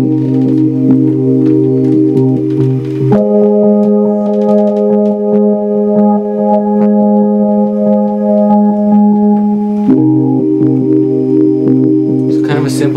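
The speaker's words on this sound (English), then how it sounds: "what I started with was a pad, like a dreamy pad, and I just wrote some chords for it" A dreamy synth pad holds sustained chords, shifting back and forth in a simple progression with two chord changes. It plays loud and steady with no voices over it.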